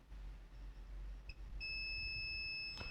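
A steady high electronic multimeter continuity beep, testing a TV circuit board capacitor to ground, starts partway through and holds to the end, preceded by a couple of short chirps, fairly quiet over a low hum.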